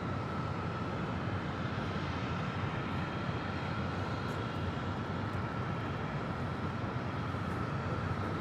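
Airliner taking off from runway 25 right at Los Angeles International Airport, a steady, broad engine roar heard from a distance, constant and unbroken with no talking.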